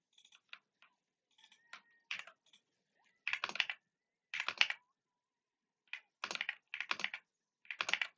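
Computer keyboard typing while writing code for an ESP8266 deauther, heard as short bursts of quick key clicks separated by pauses, close and fairly quiet, with no talking.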